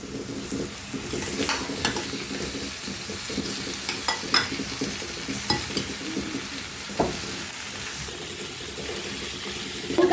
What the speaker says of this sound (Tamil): இதனுள் நறுக்கிய தக்காளி பழங்களை போட வேண்டும்.